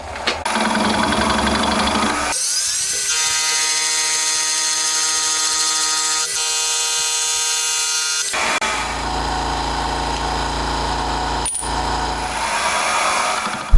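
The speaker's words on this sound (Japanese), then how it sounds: "フライスでこの周り整えて長穴開けていくだけですね。" A milling machine trims the edges of a metal plate being made for a handbuilt 125cc four-cylinder, 16-valve engine, giving a loud continuous whine with steady cutting tones throughout, the pitch and texture shifting midway as the cut changes.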